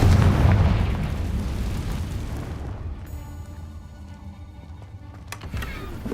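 A Confringo fire spell in Hogwarts Legacy detonates with a heavy, rumbling boom that fades slowly into a softer crackling tail, with faint clicks near the end.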